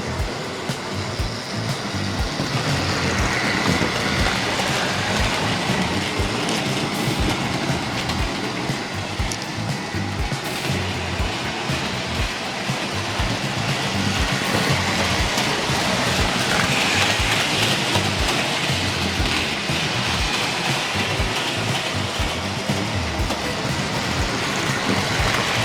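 A Tri-ang model train locomotive runs through point work on a layout, producing a steady, dense rolling rumble with faint clicking of wheels over the rails, continuous and fairly close, with no talking.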